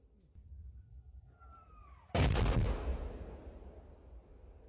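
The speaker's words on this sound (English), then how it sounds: "We can see some Ukrainian soldiers in this video getting shelled, of course surviving, but the shells landed incredibly close." An artillery shell bursts close by Ukrainian soldiers under fire, a single sudden loud blast that cuts through a low rumble of wartime ambience and then fades into a long, noisy roar of debris and echo.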